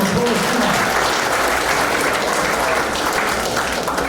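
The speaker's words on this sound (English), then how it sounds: "give him a round of applause" Loud, sustained applause from a large audience, a dense wash of clapping that holds steady throughout.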